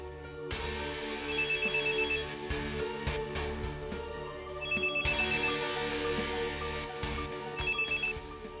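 A landline telephone rings in repeated electronic bursts with short gaps between them, clear and moderately loud, with no talk.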